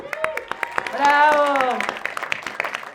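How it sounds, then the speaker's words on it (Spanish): Warm applause welcomes a guest onto a science talk show recorded at a bicycle festival. The clapping is crisp and moderately close, swelling briefly while voices call out and talk over it. "Por favor, un fuerte aplauso"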